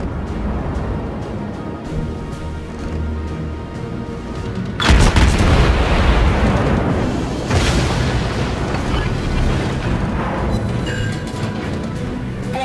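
A warship's guns fire cover fire in the naval combat game featuring the Baltimore steel cruiser, with a sudden heavy boom followed by rumbling blasts and a second loud salvo, all at close, loud range.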